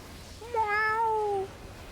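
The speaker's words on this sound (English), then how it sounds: "Meow. Speaking of meows" A single cat lets out one clear, drawn-out meow, close and fairly quiet, over a faint background hiss.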